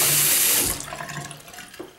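A faucet runs at full pressure into a shallow acid-stained concrete bathroom sink, a loud rushing splash that cuts off abruptly, leaving faint drips and trickles.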